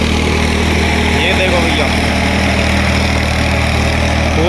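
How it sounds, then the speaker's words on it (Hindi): A Swaraj 855 tractor pulling a 9-foot rotavator through a field runs with a loud, steady engine drone close by, unbroken throughout, while someone speaks over it. "झटका ना मार रहा ट्रैक्टर, बिल्कुल एकदम शानदार चल रहा है"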